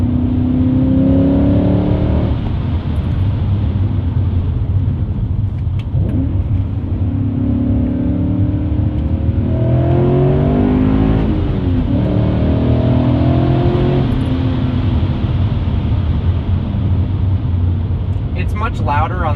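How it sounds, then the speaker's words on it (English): A BMW E39 M5 V8 with a muffler delete revs and accelerates, its deep exhaust rumbling loudly and steadily while a person talks over it. "Much louder on the outside with the muffler delete than it is inside the cabin."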